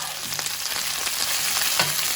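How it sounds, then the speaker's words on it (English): Steady sizzling and crackling of vegetables caramelizing in a hot pan for purple tomatillo salsa, with soft scraping as they are stirred. "the sound of sizzling vegetables and things is amazing"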